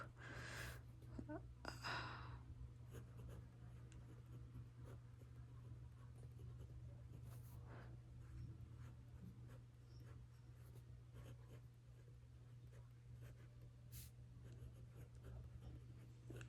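An extra fine nib Monteverde fountain pen writes on paper, giving a faint, continuous scratching under a steady low background hum.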